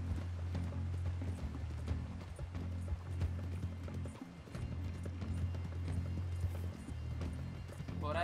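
A horse moves in Red Dead Redemption 2, its hooves clip-clopping in a steady, continuous rhythm at close range under a low humming game backdrop, with no talk.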